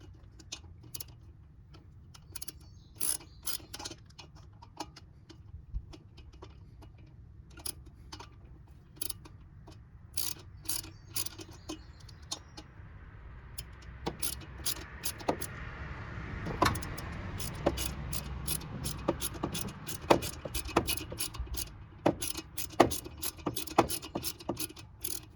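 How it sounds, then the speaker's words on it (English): A hand ratchet clicks in quick repeated bursts as studs are turned on a billet aluminum intake manifold for a modified Toyota Yaris, the ticking close and busier toward the end with no talk. "I'm gonna use a ratchet because this is billet aluminum"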